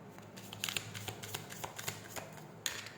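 Tarot cards being shuffled by hand, a run of soft riffling and flicking bursts with a sharper snap near the end, close and fairly quiet, with no talking.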